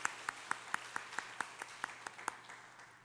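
A few members of a church congregation clap sparsely in slow, evenly spaced single claps to welcome a guest, faint and thin against a quiet room hum.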